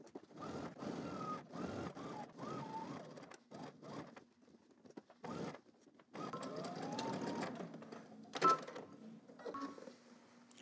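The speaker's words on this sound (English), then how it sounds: "now we're gonna head to the machine. We're gonna stitch" A sewing machine stitches a shirt seam in a series of short bursts of whirring, broken by pauses and faint handling sounds, fairly close and quiet.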